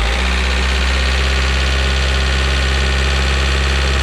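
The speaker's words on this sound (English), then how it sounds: "I'm going to get my fiance to rev the van" A VW van's engine held at about 2000 RPM, a loud, steady, dense drone with a constant low rumble that stays even and unbroken throughout.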